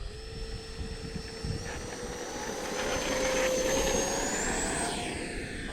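A FlyFans K-8 Red Falcon RC jet with takeoff flaps deployed takes off on its own, its ducted-fan whine holding steady and then climbing in pitch and loudness as it gathers speed and lifts off, heard from nearby outdoors.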